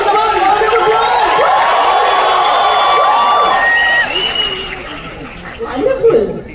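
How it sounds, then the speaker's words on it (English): Audience at an on-stage film trailer launch cheers and applauds for actors Mona Singh and Mithila Palkar, a dense loud crowd roar with shouts and whoops that thins out toward the end, voices mixed in. "Come on, round of applause."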